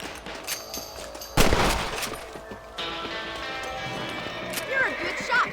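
Rifle shots in the Red Dead Redemption video game while hunting rabbits: a sharp close crack, then further shots amid galloping horse hooves, ambient game sound and voices talking.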